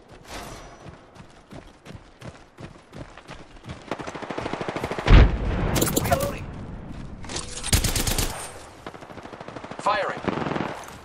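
Rapid automatic gunfire rattles in bursts during an Apex Legends match, loud and close, with game voices and movement sounds mixed in.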